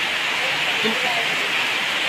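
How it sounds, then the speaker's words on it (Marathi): Steady rain hisses and patters on a surface, a dense continuous wash of sound with a faint voice briefly underneath, rainwater leaking through a village house roof. "अगं वरून पाऊस यायला ग गळायले पाणी"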